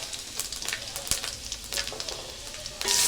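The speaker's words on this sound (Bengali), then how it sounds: "এখন আমি দিয়ে দেব পাঁচফোড়ন" Panch phoron spices hit hot oil in a pan, bursting into a bright sizzle with scattered crackles and pops, quieter midway and then flaring louder at the end.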